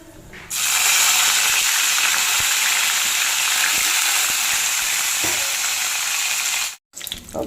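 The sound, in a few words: curry leaves spluttering in hot oil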